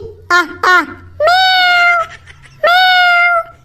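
A cat meows close by: two short, sharp calls followed by two long, drawn-out meows separated by a brief pause.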